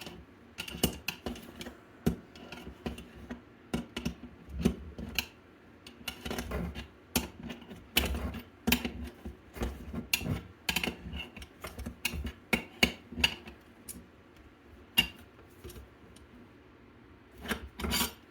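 Fittings on a hot tub heater element manifold are tightened by hand in a long run of close, irregular rasping clicks and scrapes with short pauses between bursts.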